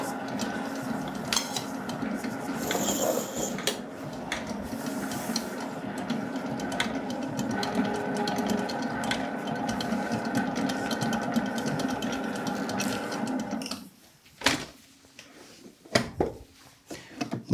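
A stand mixer churns crumble dough of flour and sugar with a steady mechanical whir, then cuts off abruptly, leaving a few clinks and bumps of the bowl.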